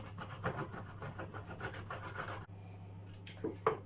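Imitation parmesan cheese rubbed against a grater in rhythmic rasping strokes, close by for about two and a half seconds, followed by a short pause and a few scattered scrapes.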